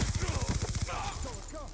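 Vector submachine gun fired in Black Ops 2 on Xbox 360, rapid full-auto bursts up close, then quieter game effects trailing off, with no talk over the shots.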